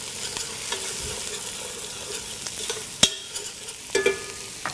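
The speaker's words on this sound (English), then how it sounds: "we're going to cook this down for about 10 minutes and sweat the onions until they're soft" Onions sweating in butter and olive oil for minestrone, a soft steady sizzle with occasional scrapes and clicks of a spoon stirring through the pan, no talking.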